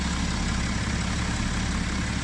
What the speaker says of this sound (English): they sound both like 6-cylinder diesels, and it sounds better than a 4-cylinder diesel